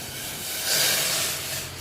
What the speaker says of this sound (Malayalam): വെളുത്തുള്ളിയിലേക്ക് നല്ല തിളച്ച വെള്ളം ഒഴിച്ചു കൊടുക്കാം.